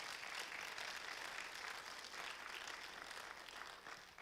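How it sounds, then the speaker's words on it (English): A university innovation competition audience applauds the judges, a steady wash of many overlapping claps heard faintly and at a distance, holding level before easing slightly at the end. "Let's give a round of applause for our judges"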